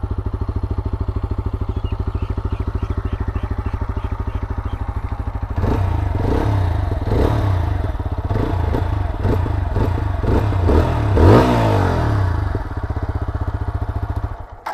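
A TVS Apache RTR 160 4V motorcycle engine runs loud and close, a steady thumping idle that then swells into revving bursts with rattly mechanical texture before settling and cutting off.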